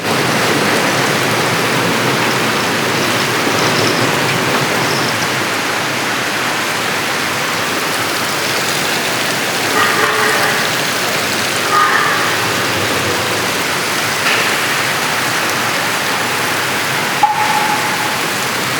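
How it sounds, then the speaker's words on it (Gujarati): Heavy afternoon rain pours in Ahmedabad in a loud, unbroken hiss that stays steady from start to finish, with no voices. "બંબા ફાટ વરસાદ પડી રહ્યો છે."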